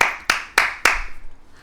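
Hands clap four times in a quick, evenly spaced series, sharp and close, the last clap leaving a short fading tail, with no talking over them.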